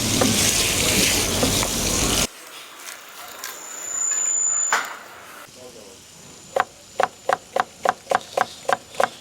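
Loud sizzling of liver searing in a hot pan for a couple of seconds, followed by quieter sounds and a run of sharp rhythmic chopping of onions.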